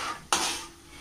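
Tindora (ivy gourd) stir-frying with garlic cloves in oil, two sharp bursts of loud sizzle as the pieces are tossed, fading to a softer fry between, close by and with no talk.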